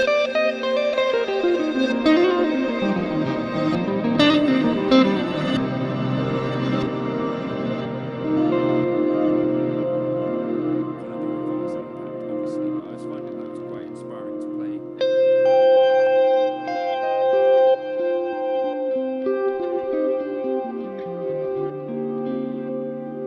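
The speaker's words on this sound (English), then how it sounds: "I could reverse that and you'd get the quiet stuff with the reverb." Electric guitar played through a Line 6 Helix using a dynamic reverb, with sustained, shimmering notes that bloom into a wide, washy pad and ring on steadily throughout.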